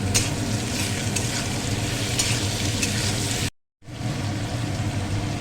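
Ginger paste sizzles and fries in hot oil while being stirred, making a steady close crackling hiss with a few scraping accents and one short silent gap.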